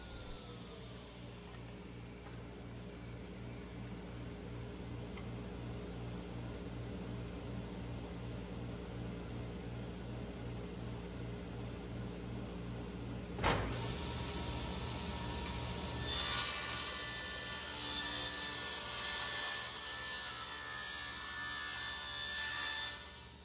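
A table saw rips wood blanks into half-inch strips against the fence, a steady whirring hum that jumps sharply when the blade bites, then a brighter, louder cutting whine sustained to the end.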